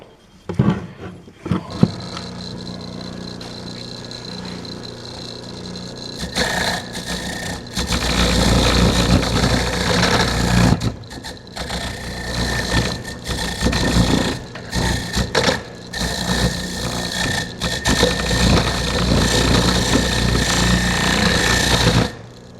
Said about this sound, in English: So we'll get that all cleaned up on the wire wheel, and if we have to, we'll even take a file to it.